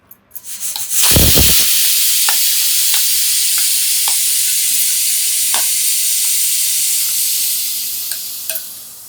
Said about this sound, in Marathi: आता ही ढवळून घेऊया